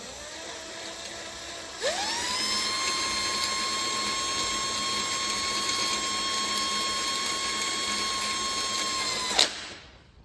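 A power tool runs in one steady, continuous burst for about seven seconds, winding up and then holding pitch, as it tightens a bolt on the rear suspension of a Honda K24-swapped Porsche 914 in a garage.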